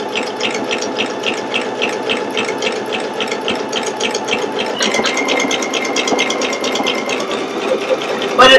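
Pfaff Creative Icon 2 sewing machine stitching a background fill on fabric, a fast steady mechanical rattle and whir with a continuous rapid needle rhythm, close and fairly loud, shifting slightly in pitch partway through.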